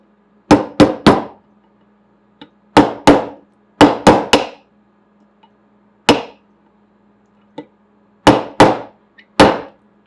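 Sharp metallic hammer strikes on a punch driving a pin into a rifle, in uneven bursts of two or three, ringing briefly, with quiet gaps and faint taps between.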